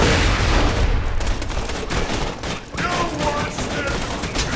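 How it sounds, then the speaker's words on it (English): Heavy gunfire in Borderlands 2 rattles out in dense, loud bursts of overlapping shots, briefly thinning before the firing picks back up. "They're still shooting at it."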